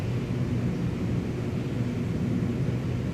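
Airplane engine in Microsoft Flight Simulator 2020 throttled back for descent, a steady low rumbling drone with airy noise, constant and unchanging, with no other sounds over it.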